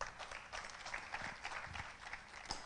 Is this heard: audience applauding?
yes